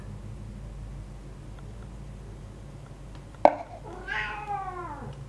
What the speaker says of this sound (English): Please excuse my cat in the background.